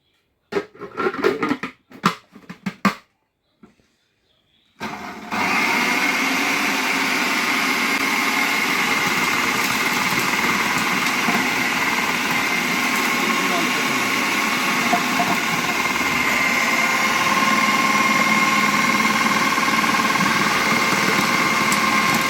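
A Miyako food processor slices bitter gourd: a few brief clattering knocks come first, then after a short pause the motor starts up and keeps up a loud, steady whirring drone. A voice speaks briefly before the motor starts.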